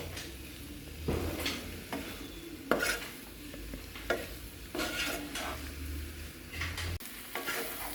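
Aloo katli mixture of potato being stirred in a pan, with steady sizzling and repeated scraping and tapping of the spoon against the metal, close and moderately quiet, continuing without speech.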